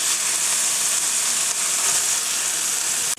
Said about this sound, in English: I'm going to go ahead and stir fry the vegetables.